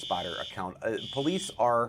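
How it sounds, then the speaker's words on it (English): Fire alarm sounding inside a Fox 6 TV news studio, a steady high electronic tone running throughout under continuous close news-anchor speech. "we've got a fire alarm going off here at Fox 6."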